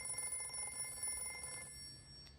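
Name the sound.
mobile phone ringing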